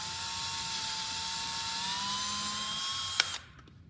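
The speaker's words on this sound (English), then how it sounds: "We'll just drill straight through." A high-pitched power drill whines steadily for a few seconds drilling straight through a brake pad, then cuts out abruptly, leaving quiet room noise.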